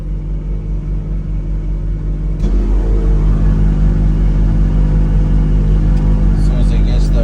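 A tractor crawling in first gear at about one mile per hour while seeding, its engine a steady loud low rumble that steps up slightly partway through, with a voice speaking over it.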